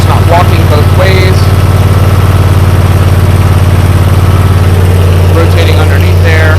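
The engine of an Earth & Turf 415-SP stand-on topdresser idles loud and close as a constant low droning rumble with a strong steady hum, while someone talks over it at times.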